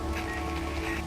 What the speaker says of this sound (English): Seems like it's always raining.